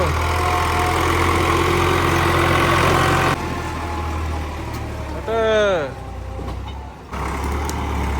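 A tractor engine runs at a steady low idle rumble, close and loud throughout, with a shift in tone partway, while people talk nearby and a brief squealing sweep cuts in near the end.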